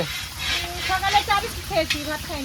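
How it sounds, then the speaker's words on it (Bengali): Fish heads fry in a pan in a home kitchen, giving a steady close sizzle with faint stirring while voices talk over it throughout. "মাছের মাথা এখনো ভাজা চলছে"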